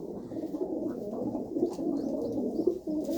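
Pigeons kept as prized loft birds coo in a low, soft, throaty burble, several birds overlapping steadily and close by with no one talking.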